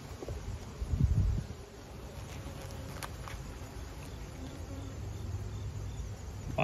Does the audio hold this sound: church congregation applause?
no